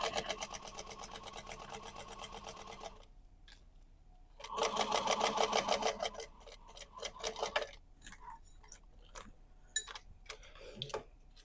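A sewing machine runs in fast stitching bursts while sewing a zippered bag, with a long steady run at the start, another mid-clip, and shorter starts and stops near the end; close and fairly quiet, with no talking.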